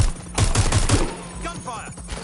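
A quick burst of four sharp gunshots rings out in the video game Watch Dogs: Legion, close and loud, followed by a brief voice.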